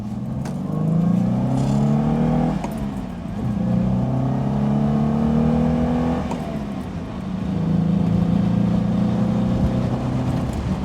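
Ford-engined Reliant Scimitar accelerating hard, its engine note climbing through the gears in three long revving pulls with brief dips at each shift, loud and close with no talk.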